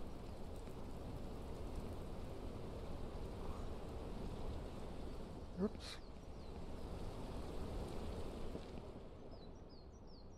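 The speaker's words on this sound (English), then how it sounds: "Oh my God, and it's raining." Steady rain falls in the farming game Ranch Simulator, a constant dense hiss that runs throughout. A short exclamation from a person is heard briefly in the middle.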